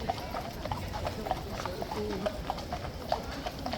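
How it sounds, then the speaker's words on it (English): Police horses in riot kit walk on pavement with a steady clip-clop of hooves, moderately close beneath a busy outdoor murmur and a voice speaking. "Those are not the only police horses in riot kit either."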